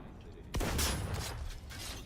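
A gun firing in the video game Cyberpunk 2077: one sharp, loud shot after a quiet start, followed by a ringing, clattering tail.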